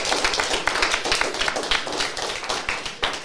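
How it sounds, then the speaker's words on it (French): An audience at a school sports event applauds the teams, a quick uneven patter of many hands clapping together at close range, continuous and fairly loud. "on peut applaudir bien fort tout le monde"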